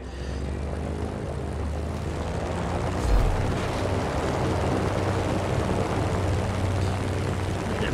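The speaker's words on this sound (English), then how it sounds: "Like I don't actually know how to fly a plane." A propeller airplane in the game Just Cause drones loudly and continuously as it flies, with a brief surge partway through and no talking.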